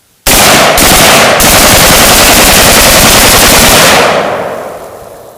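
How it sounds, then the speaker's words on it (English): Rifle fired in rapid bump-fire bursts by a shooter walking outdoors, a loud continuous stream of shots lasting several seconds before cutting off into a decaying echo. "Okay, so that's me walking while I'm bump firing."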